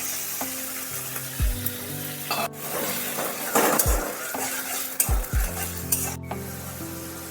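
Chana dal with turmeric, salt and chilli frying and sizzling in a pan while a utensil stirs and scrapes it, with several distinct scraping strokes and clinks over a steady close sizzle.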